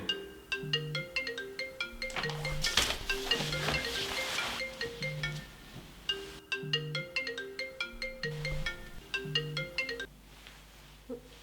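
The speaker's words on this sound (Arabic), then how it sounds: "موبايلك بيرن" A mobile phone ringtone playing a repeating electronic melody, a steady looping tune that carries on for several seconds, fairly close with a brief noisy patch in the middle.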